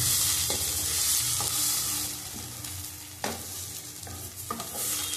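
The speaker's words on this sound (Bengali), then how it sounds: "কালো জিরে শুকনো লঙ্কা ফোড়ন দিয়ে ভালো করে ভেজে নেব।" Radish is stir-fried with nigella seeds and dried chili, giving a steady close sizzle with repeated spatula scrapes and stirring knocks against the pan, no voices.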